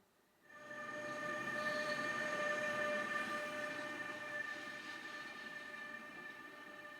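A Rail Pool class 186 electric locomotive idles and runs around at a terminal nearby, a continuous engine drone with sustained tonal whine over low rumble, rising quickly then holding fairly steady.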